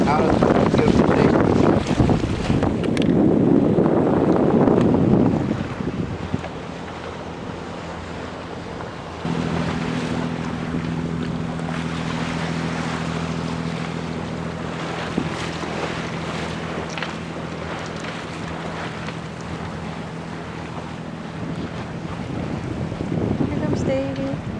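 Wind gusting across a sailboat out on the water near Terminal Island, California, a loud rushing buffet over the microphone with washing waves and a low steady hum through the middle.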